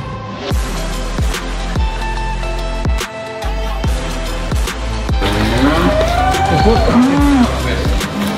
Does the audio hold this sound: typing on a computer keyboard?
no